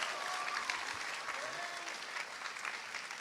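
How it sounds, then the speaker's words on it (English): A graduating-class crowd at a school graduation ceremony in Qatar applauds a student president, steady dense clapping held at an even, fairly distant level throughout. "please give me a massive round of applause for Miss Sage Wessel"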